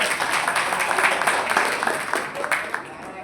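Audience applause at a Hindi poets' gathering: a steady, rather thin patter of clapping from a crowd that keeps going for a few seconds without swelling, fairly close, with some voices mixed in.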